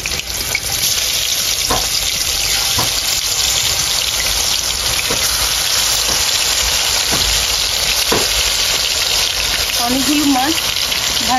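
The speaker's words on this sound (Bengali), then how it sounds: "মশলার পেস্ট দিয়ে 2 মিনিট এভাবে কষিয়ে নেব" Fish frying with a mustard spice paste: a dense, loud, steady sizzle close up, with a few faint stirring taps and a brief voice-like sound near the end.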